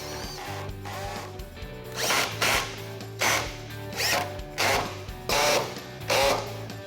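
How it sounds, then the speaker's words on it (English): A power drill with a 3/8 socket drives screws in short repeated bursts, about six quick runs separated by brief pauses, close by with a faint background hum. "Use the power drill and 3/8 socket to install the provided tech screws."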